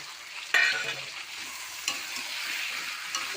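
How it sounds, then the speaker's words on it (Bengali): Ground cumin, coriander, turmeric and salt sautéed in oil for a fish curry, a soft frying hiss broken by a couple of sharp scrapes and clatters as the spices are stirred, close and without speech. "হালকা করে একটু কষে নেব"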